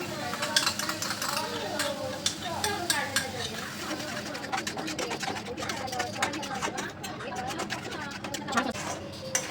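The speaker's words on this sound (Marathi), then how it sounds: "मसाले छान परतून झालेले आहेत आणि आता आपण यामध्ये दही ॲड करतो" Spices and yogurt sautéing in a pan for dum aloo, a soft sizzle under frequent scraping and clinking of a spoon against the pan, with a voice talking throughout.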